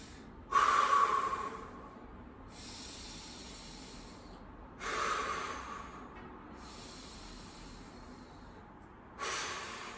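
Three deep, forceful breaths during a core stability exercise, each a rushing, snort-like burst of air a few seconds apart, close and clear with no talking.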